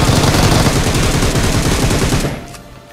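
Rapid automatic rifle fire in PUBG, loud and close, a dense unbroken burst of shots lasting over two seconds before cutting off into a brief fading echo.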